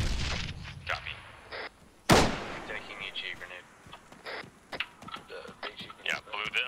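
A frag grenade detonates in a tactical shooter firefight: one sharp, loud blast about two seconds in, with scattered thumps and voices talking before and after.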